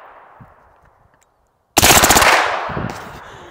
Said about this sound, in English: And just shoot into the hill.